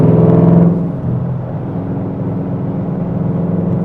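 A 2013 Mustang Shelby GT500 pulling hard, its loud, throaty engine note dropping sharply at a gear change before climbing again as it keeps accelerating.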